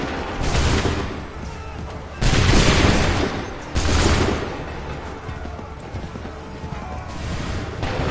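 Musket volleys crack out in Assassin's Creed 3, several loud massed bursts spaced a few seconds apart over a constant rumble of battle noise.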